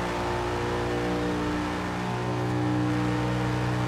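An Audi RS7 Black Edition's engine drones continuously as the car drives through Forza Horizon 2. The loud, sustained roar swells slightly toward the end, with no talking.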